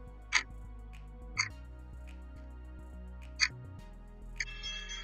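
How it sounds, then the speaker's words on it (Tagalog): A clock ticks in a few sharp, isolated clicks spaced roughly a second or more apart, crisp and close, over a steady low hum. "orasan,"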